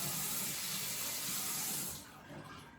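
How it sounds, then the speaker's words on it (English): Leftover brine shrimp hatching water poured out into a sink, a steady close splashing gush that stops after about two seconds, leaving a softer trickle and drip. "At the end of the night, whatever was left, I just pour it out."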